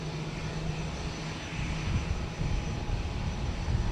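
A fixed-wing airliner departing Dublin Airport for Geneva gives a steady, broadband engine roar that builds slightly and holds throughout, heard from a distance on the airfield with no talk.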